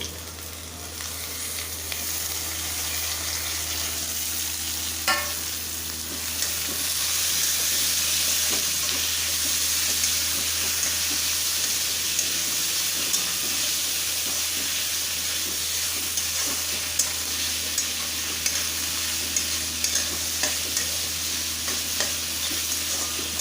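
Chopped tomato and chana dal fry with green chilies in a pan, giving a loud, continuous sizzling hiss with occasional light ticks from stirring.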